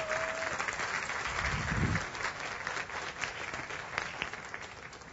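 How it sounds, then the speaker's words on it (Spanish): Church congregation applauding during a pastor's sermon, a continuous, fairly even patter of many hands clapping in a room, moderately loud with no talk over it. "Usted lo puede aplaudir mejor."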